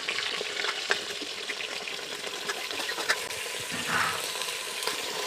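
Chopped jackfruit goes into a pan of browned onions and fries, making a dense continuous sizzle with scattered stirring scrapes, loud and close.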